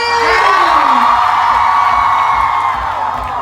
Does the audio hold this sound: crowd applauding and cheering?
yes